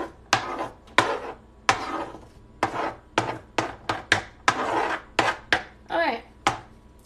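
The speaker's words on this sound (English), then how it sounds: "I heard you chopping." A knife chops vegetables on a board for a pub-style shepherd's pie, a string of sharp, fairly close thuds at an uneven, sporadic rhythm, about a dozen cuts with brief scraping between them and no voices.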